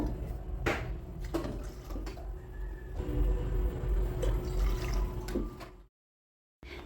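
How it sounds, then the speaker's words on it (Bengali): Four cups of water poured into a pan in the kitchen, a splashy running gush with a few clinks, ending abruptly in silence. "আমি কাপ মেপে এখানে চার কাপ জল দিয়ে দেব"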